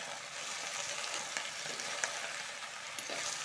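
Okra is stirred as it fries in oil for a simple spiced curry, a steady close sizzle with soft scraping from the spoon and a few small pops, no talking.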